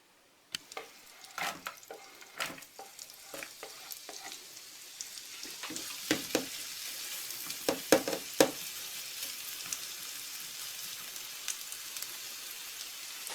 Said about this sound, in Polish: Na patelnię wrzucam masło i gdy się rozgrzeje, będę na nim szklić cebulę.